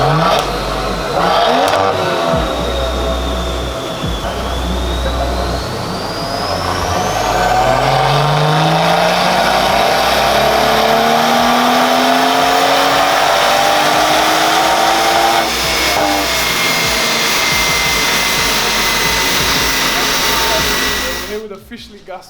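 An 800BHP tuned car on a dyno at a tuning garage, its engine roaring loud and sustained with a rising pitch sweep as revs climb, holding near full throttle before cutting off abruptly at the end.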